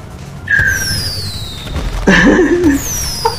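Fireworks go off in a desktop arms shooting game: whistling rising and falling tones and crackling bursts that come in two clusters, fairly loud over a steady low background.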